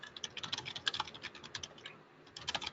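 Loud, fast typing on a computer keyboard, a dense run of sharp clicking keystrokes close to the microphone with a brief pause near the end before the tapping resumes.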